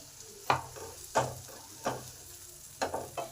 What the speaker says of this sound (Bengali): এই সময় যে সর্ষে পোস্ত আর নারকেল বাটা আছে সেই বাটা মশলাটা দিয়ে দিলাম